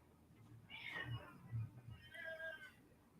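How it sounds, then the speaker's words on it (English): A house cat meows faintly indoors, two or three soft drawn-out calls in a quiet room. "Please ignore my cat. She was being bad, so I kicked her out."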